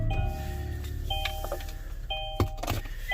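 Someone gets into a 2021 Kia Sorento and starts it, with soft electric motor whirs from the power mirrors folding, interior chimes and door clunks, all close by in the cabin with no talk.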